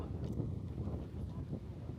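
Wind blowing at a riverside house on the Mekong River, a steady rumbling buffet against the microphone with low gusty noise throughout and no talk.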